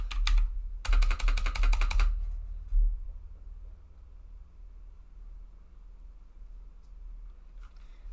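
Fast, crisp typing on a 60 percent computer keyboard comes in a dense burst of clicks close to the microphone, with a few isolated keystrokes after it over a low steady hum.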